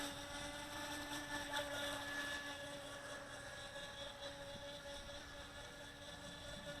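A Feilun FT009 high-speed RC boat runs at full throttle, giving a steady high-pitched electric motor whine with tonal harmonics, faint and distant over water, unbroken for the whole stretch with no voices.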